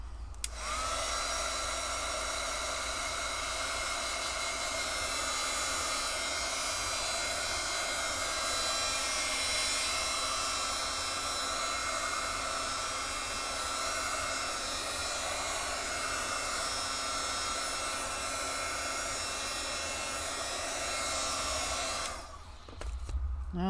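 A hair dryer dries paint on a mixed media artwork, blowing with a loud, steady whirring hiss close by for over twenty seconds before it dips briefly and switches off near the end.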